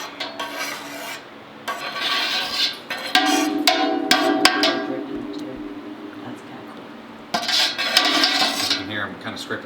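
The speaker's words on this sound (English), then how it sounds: "I'm kind of scraping the bottom, trying to make sure all of that syrup is sticking" Metal utensil scraping and stirring the bottom of a brewing pot of malted barley syrup, a rasping, grinding scrape in repeated bursts with brief pauses, close and fairly loud.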